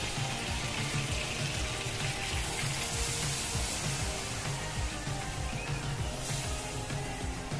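Water pours into a pot of sautéed chicken feet for Filipino tinola, a continuous, fairly loud splashing and gurgling that runs unbroken throughout.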